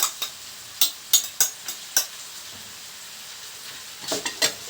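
Onion and sweet pepper frying in a pan, with a quiet sizzle beneath a series of sharp crackling pops and spits that come in irregular bursts, clustering near the start and again toward the end.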